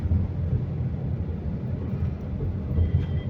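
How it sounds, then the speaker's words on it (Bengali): A train passes along the railway near Bally station as a low, steady rumble that swells slightly toward the end, heard from some distance without talk. "দেখা যাচ্ছে একটুখানি ট্রেনটা যাচ্ছে"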